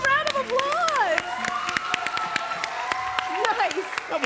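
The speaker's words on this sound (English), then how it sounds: "Give yourselves a round of applause." Audience applause at a live children's show: scattered clapping from a crowd, mixed with cheering, excited children's voices and shouting over it.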